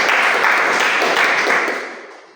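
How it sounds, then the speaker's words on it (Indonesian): Classroom applause in a religious education lesson, a steady wash of many hands clapping together that fades out toward the end. "tepuk tangan dulu"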